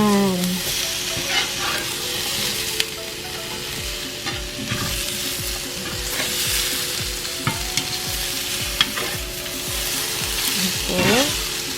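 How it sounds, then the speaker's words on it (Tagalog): Potatoes and onions are stirred in a frying pan over a loud, continuous sizzle, with a spatula scraping in repeated strokes that sound close by. "Mix natin yung patatas and yung yung sibuyas para malasa lalo."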